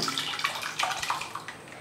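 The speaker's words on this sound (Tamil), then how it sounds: "ஒரு 1/4 கிளாஸ் அளவுக்கு நான் தண்ணி சேர்த்துட்றேன்" Water is poured into a pan of millet sambar, a close, steady splashing and gurgling stream that runs throughout without any talking.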